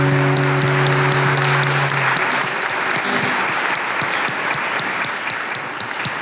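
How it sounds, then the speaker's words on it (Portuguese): A church congregation applauds steadily during a service, a dense wash of clapping from start to finish, with a sustained organ or keyboard chord under the first two seconds. "Aplauda o Senhor em nome de Jesus."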